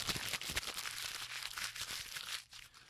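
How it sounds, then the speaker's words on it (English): Sheets of paper being crumpled into balls, a steady dense crinkling and crunching that runs close and fairly quiet for about three seconds, with no voices. "I was balling up those pieces of paper"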